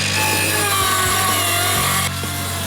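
A roof being cut open over a kitchen during a renovation, with steady sawing and rasping through wood, a constant power-tool drone underneath and the cutting stopping sharply near the end.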